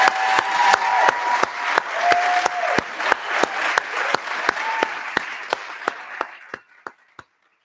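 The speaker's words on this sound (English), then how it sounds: "I was expecting a clap there." An audience claps at a school board meeting, a steady patter of applause with sharp individual claps that thins out and fades to a few last claps.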